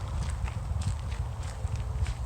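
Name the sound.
horse walking, hooves clip-clopping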